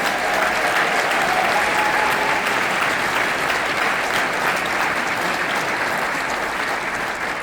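Full, sustained audience applause for the LMEA High School Symphonic Band at an all-state honor band concert, a dense, even roar of clapping that holds at a steady loudness throughout.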